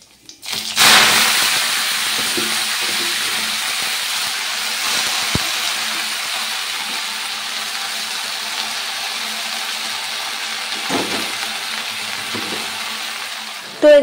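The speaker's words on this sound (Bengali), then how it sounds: "তেলের ওপর পাঁচফোড়ন দিয়ে শাকগুলো দিয়ে দিলাম" Greens and five-spice seeds hit hot oil in a pan, setting off a loud, steady sizzle that starts abruptly and holds for the whole stretch, with occasional clinks of a utensil.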